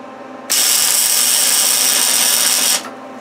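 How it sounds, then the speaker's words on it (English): Welder tack-welding steel brackets onto a solar panel pole: one loud, steady buzzing burst lasting a couple of seconds, starting and stopping abruptly over a faint background hum. "let's get the welder out and let's just weld them right in there. Okay, let's just tack this side first."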